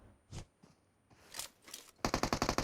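Gunfire in the mobile battle royale game PUBG Mobile: a rapid burst of about eight sharp automatic shots near the end, after a few quieter scattered sounds.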